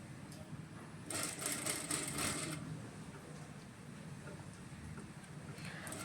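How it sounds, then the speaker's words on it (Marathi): Sewing machine stitching thick cotton socks, with a steady mechanical whir that grows louder for about a second and a half mid-clip, then settles back into a low running hum. "तर बघू शकता आता मी दाब टीप देत आहे,"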